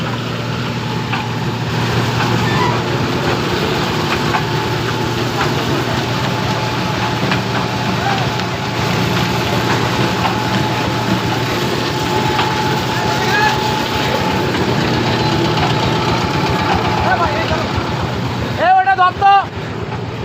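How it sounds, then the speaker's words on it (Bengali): Mustard oil expeller machines in a mill drone loudly and steadily with a dense mechanical rumble, and a brief rattling clatter comes near the end. "দেখেন এই যে চলতেছে মেশিনগুলো রিয়েল।"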